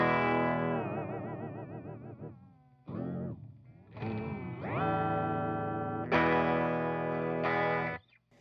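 A 1987 Kramer Barretta electric guitar played alone through heavy distortion, its sustained notes and chords bent and warbling under whammy-bar dives and wobbles, in several loud phrases with short breaks between them.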